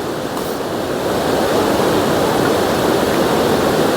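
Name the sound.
rushing mountain water flowing near Rambara, Kedarnath trail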